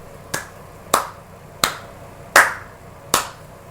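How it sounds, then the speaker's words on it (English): Five sharp hand claps or snaps at an even, unhurried pace, each crisp and close with a short fading tail, alone without talk. "that is all the hand claps you get, Arc System Works"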